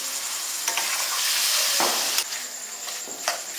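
Mustard and cashew paste fries in oil with a splash of water for a prawn and potato dish, a loud hissing sizzle that swells and eases as a spoon stirs through it.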